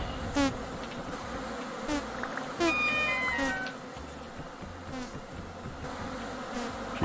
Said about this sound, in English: Jeez, we got angry bees out of all three of them.